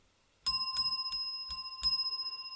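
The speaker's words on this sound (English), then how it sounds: "That's 5 little bells." Five small bells ring one after another at a steady pace, each a bright clear ding with a short shimmering ring-out, close and alone in an otherwise quiet setting.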